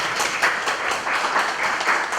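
An audience at a public policy forum claps steadily, a dense, even wash of many hands that holds at the same level throughout without voices.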